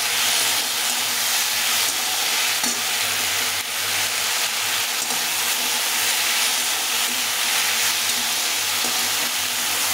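Ridge gourd fries in a pan with turmeric and slit green chillies, giving a steady, loud sizzle and hiss with occasional stirring clatter, close up and continuous with no talking.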